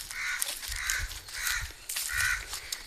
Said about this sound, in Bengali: ওই কাক দুপুরবেলা কাকা করতেছে